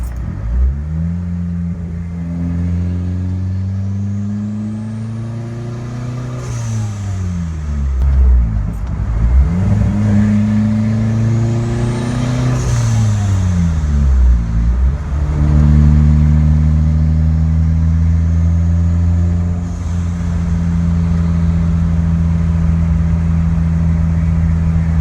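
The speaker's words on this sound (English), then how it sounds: "This is what it sounds like with just the exhaust cut and the new pipe not welded up yet." Car engine revving with the exhaust cut open and the new pipe not yet welded, a loud, raw drone rising and falling in several long swells over a steady idle.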